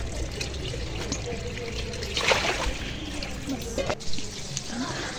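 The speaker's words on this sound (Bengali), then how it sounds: "আমি একটু আলুটা কেটে তারপর একবারে ধুয়ে পরিষ্কার করে দেব" Cut potatoes are washed in water in a home kitchen, giving a quiet, steady trickle and swish with a few brief splashes and clinks, while faint voices sound in the background.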